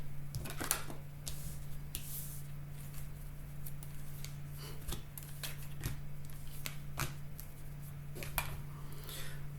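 Tarot cards being shuffled by hand, a steady papery riffling and flicking with sharp card snaps scattered through, close and fairly quiet against a low steady hum, no talking.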